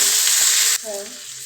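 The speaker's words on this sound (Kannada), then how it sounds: "ಈರುಳ್ಳಿ ಚೆನ್ನಾಗಿ ಫ್ರೈ ಆಗಿದೆ." Onions fry loudly in a pan with turmeric powder, a close, bright sizzle that drops sharply partway through to a lower, quieter crackle as they are stirred.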